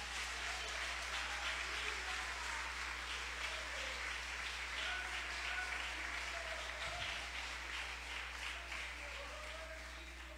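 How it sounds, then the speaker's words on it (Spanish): Applause for Jesus in a church service, a soft, continuous patter of clapping heard at some distance over a low steady hum, with faint voices mixed in. "denle un aplauso a ese Jesús"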